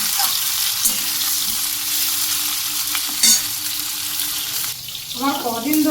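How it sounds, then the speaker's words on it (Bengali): Boiled, salted jackfruit pieces frying in a pan, a constant bright sizzle with occasional stirring scrapes and a brief water splash near the end. "এঁচড়গুলোকে দেখো সুন্দর করে ভেজে নিচ্ছি"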